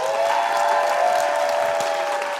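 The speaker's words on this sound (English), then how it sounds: "let's give him one more round of applause" An audience at a live talk show gives a performer a sustained round of applause, a steady dense wash of clapping with a faint tonal hum running underneath.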